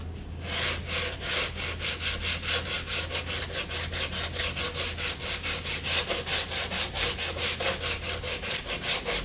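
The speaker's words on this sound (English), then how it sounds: "now I'm going to start taking a 120 grit and just be a little slower about it" Sandpaper of 120 grit worked back and forth over a wooden guitar rosette, producing an even, rhythmic scraping of quick strokes, close up and steady throughout, with a low hum underneath.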